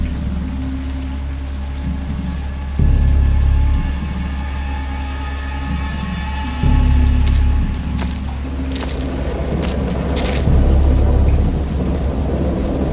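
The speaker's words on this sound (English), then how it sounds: "I have indistinct recollections of a great storm sometime after I reached the boat." Thunderstorm in the Lovecraft horror game Dagon: steady heavy rain with three deep rolling thunder rumbles swelling and fading at intervals, no voices.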